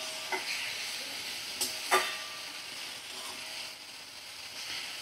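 Onion and potato fry in a pan over a low gas flame, a steady gentle sizzle broken by a few sharp scrapes and clinks from stirring.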